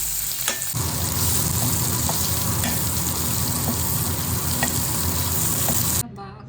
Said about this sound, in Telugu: బాగా ఫ్రై అయ్యేంత వరకు సిమ్లో పెట్టి ఫ్రై చేసుకోవాలి